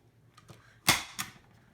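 A stapler punching staples into a paper plate craft: two sharp, close snaps about a third of a second apart, preceded by faint handling clicks, with quiet room tone and no talking.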